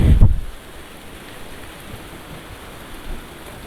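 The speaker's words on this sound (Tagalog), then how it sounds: "Umulan." Heavy rain pours steadily on a street, a dense, loud, continuous hiss after a brief thump at the start, with no talking.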